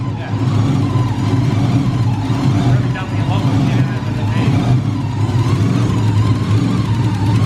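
A turbocharged BMW M52 3-litre engine, swapped in and tuned for E85, drones loudly and steadily on a dyno, with people talking over the constant running.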